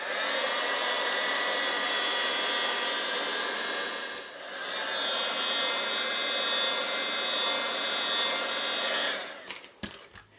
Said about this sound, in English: Now I'm going to bring in the heat gun and we're going to go ahead and dry this.